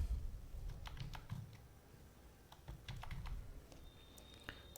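Fingers type on a computer keyboard to enter a captcha, a run of quiet, irregular key clicks close to the microphone with no talking.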